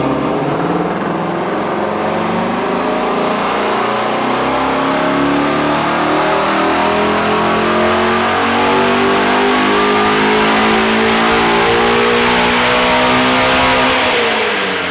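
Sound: Mustang engine revving on dyno

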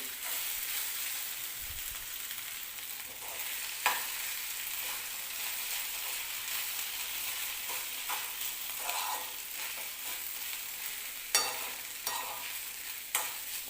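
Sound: mixing aloo poha in a pan

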